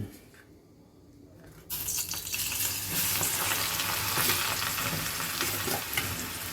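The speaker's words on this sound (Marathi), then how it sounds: "लसूण फ्राय करून घेऊ" Chopped garlic dropped into hot oil for schezwan chutney, starting as a sudden loud sizzle after a quiet moment and holding a steady, crackling fry to the end.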